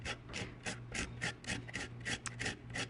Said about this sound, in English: Now, I'm going to grate it on a grater, like this.